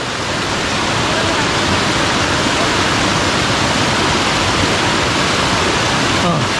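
A waterfall near Kuthiran tunnel roars as a loud, dense, unbroken rush of falling water, close by and filling the whole scene.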